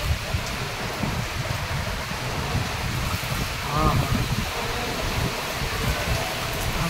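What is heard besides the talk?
heavy unseasonal rain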